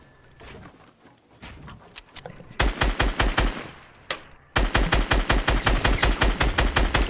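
Rapid bursts of automatic gunfire in a video game, loud and close, with sparse shots early on giving way to two long sustained volleys separated by a brief pause.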